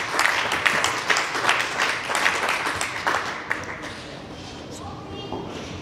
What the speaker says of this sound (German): Das ist euer Applaus für die blumige Idee im Hackathon 23.